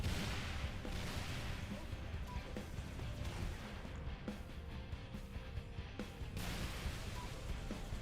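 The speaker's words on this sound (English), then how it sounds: "plasma launcher, brand new to Halo Reach, literally launching plasma grenades" Plasma launcher firing plasma grenades in Halo Reach, a steady roar of dense booming blasts and crackling impacts running continuously throughout, with talk mixed in.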